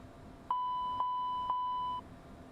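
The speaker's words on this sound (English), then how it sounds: "Smoke detector." Smoke detector test warning in a Challenger 650 cockpit in X-Plane 12: four evenly spaced electronic beeps in a steady pulsing row over a quiet cabin hum, clear and moderately loud.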